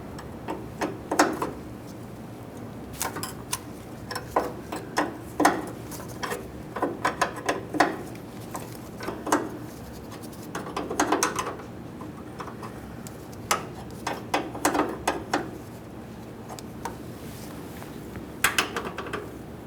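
A 13mm wrench works loose a rear brake line fitting on a 2015-2020 Ford F-150, giving sporadic close metallic clicks and ticks in small bursts over a low steady hum.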